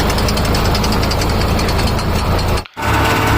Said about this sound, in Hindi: ट्रैक्टर को घुमा रहे हैं दौरी करने के लिए।